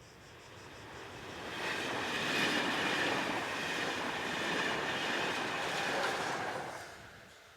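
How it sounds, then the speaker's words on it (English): An ETR 521 Hitachi passenger train heads south past the listener, its rushing rumble and rail noise swelling to a broad roar, holding, then fading at the end. "An ETR 521 Hitachi set heads south."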